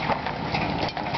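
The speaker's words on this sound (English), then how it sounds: "I am surprised that engine ain't all the way done." The engine of a burnt-out police car idles roughly, a close, loud, low rhythmic chugging in a brief burst with no voices over it.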